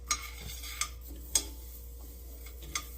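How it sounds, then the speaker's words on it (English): Whole spices being toasted and stirred in a dry pan on medium heat, with a few sharp scrapes and clinks of a utensil at irregular intervals over a soft steady background hum. "So now you want to put your pan on medium heat, and then we're going to toast all these spices"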